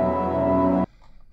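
A raw, unprocessed synth chord sample from an electronic track, a single dry sustained chord with rich stacked harmonics that stops cleanly after under a second, leaving faint low residue.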